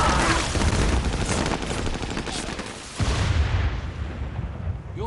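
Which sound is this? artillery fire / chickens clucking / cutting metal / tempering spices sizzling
artillery fire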